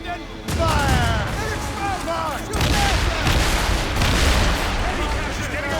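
Ship cannon fire in the video game Assassin's Creed Rogue booms in loud, rolling volleys under shouted voices, with whistling, sweeping tones mixed into the barrage.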